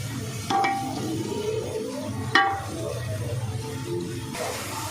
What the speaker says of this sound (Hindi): अब हम इसके अंदर अदरक और लहसुन का पेस्ट